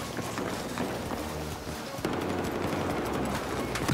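Gunfire in the Battlefield 4 video game, a dense, continuous stream of rapid shots and clattering action sounds that grows slightly louder halfway through, with no clear voice over it.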